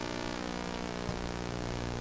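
A wobbler sweep signal tuned in on an old National HRO radio receiver, a steady droning tone with dense harmonics and a hum underneath, holding at an even level throughout with one brief click near the middle.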